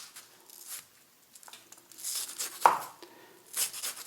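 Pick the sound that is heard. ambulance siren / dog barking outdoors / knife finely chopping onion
knife finely chopping onion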